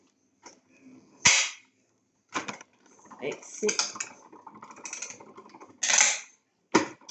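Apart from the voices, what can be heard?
paper passing through a die-cutting machine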